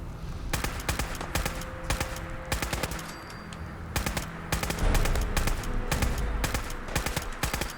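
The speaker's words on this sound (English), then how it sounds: "I think all those shots were hitting that dude in the face." Rapid bursts of gunfire in Fallout 4 crack in repeated clusters of shots with short gaps between them, loud and close throughout.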